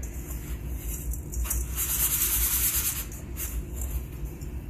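A chicken breast is shaken in coating for stuffed chicken, giving a steady dry rustling and rubbing that swells briefly in the middle and then settles, close and alone.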